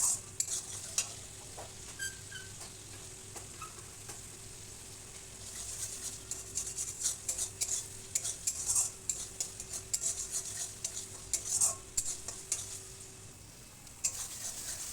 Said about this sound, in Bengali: খুব সুন্দর করে মশলাটা কষিয়ে নিতে হবে।